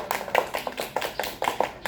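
A classroom of children claps hands together in a quick rhythmic pattern, with a series of bright, evenly spaced bursts of applause close by.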